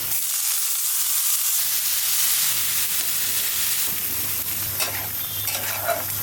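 Chopped onion, green chilli and garlic sizzle loudly in hot oil for a tempering, with a constant hiss and stirring scrapes running close and clear throughout.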